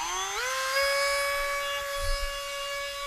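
An EdgeTunePro ski sharpening tool's grinding stone spins up and holds at about 35,000 RPM, a steady high-pitched whine with strong harmonics that rises sharply in the first half second and then stays level and loud.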